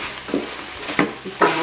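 Beef sizzles steadily in a hot pan for a home-cooked meat sauce, with a few sharp scraping stirs of a spoon cutting through the close frying hiss.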